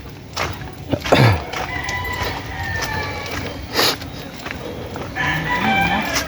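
Chickens on a poultry farm clucking, with a rooster crowing in drawn-out calls over steady outdoor farm ambience; scattered bird calls come from near and far, with faint voices in the background.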